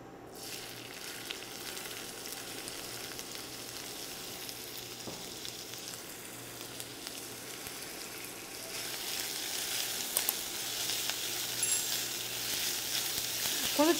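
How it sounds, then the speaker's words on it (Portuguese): Onion and ginger frying in dendê palm oil in a pan, a soft steady sizzle that grows louder and brighter partway through, with occasional faint stirring clicks. "a gente vai aquecer o azeite de dendê e refogar a cebola e o gengibre nele"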